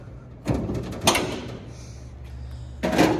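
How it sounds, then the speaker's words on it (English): Door being opened in a workshop during a 1927 Ford Roadster build, heard as two sharp handling knocks close by followed by another louder clatter near the end, with steady low hum underneath. "hold on, I got to open the door"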